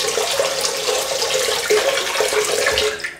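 Tap water runs into a bathroom sink to warm a Merkur 37G slant razor blade before a wet shave, a steady close splashing stream lasting a few seconds with no voices.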